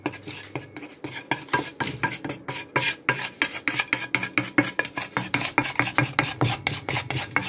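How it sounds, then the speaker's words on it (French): A utensil scrapes rhythmically across a heating pan while spreading cooking oil, a fast series of short rasping strokes heard up close and alone. "on va étaler l'huile pour pas que ça crame"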